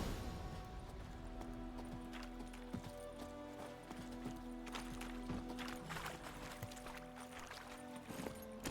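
Horse hooves clip-clop steadily at a trot or gallop in the open-world fantasy game The Witcher 3, a continuous rhythmic pattern over a dense layer of ambient game sound and music, moderately close.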